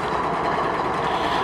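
A BNSF freight train standing idle on the track near Hinckley, California, gives off a steady, dense diesel engine rumble and hiss, constant and fairly loud without any change or talk.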